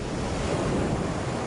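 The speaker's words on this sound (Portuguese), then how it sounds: "a plataforma será atingida por mais de 180 milhões de ondas" North Sea waves surge and wash continuously around an offshore gas platform, a dense, unbroken roar of surf mixed with gusting wind across the microphone.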